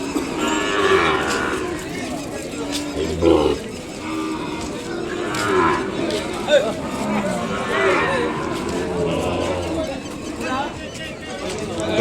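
Ongole cattle low and moo repeatedly at a busy Kodad cattle market, the bellows rising over steady crowd chatter and people talking nearby throughout.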